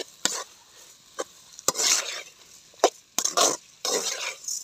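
Sea insect prawns with turmeric and egg being stirred and sautéed in a pan, heard as intermittent scraping stirs with bursts of sizzling and short pauses between, fairly close and with no talking.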